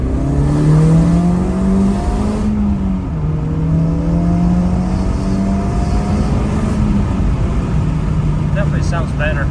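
A Honda Civic Type R FL5 with its center muffler deleted drones through its exhaust from inside the cabin, the engine note rising, easing through a shift, then holding a steady low hum under heavy road noise.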